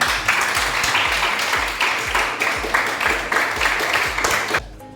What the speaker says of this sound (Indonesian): selanjutnya kalian berikan tepuk tangan kepada teman kalian